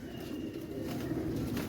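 Pigeons cooing in a low, steady murmur close by, with soft stirring that hints at wing movement, no voices present.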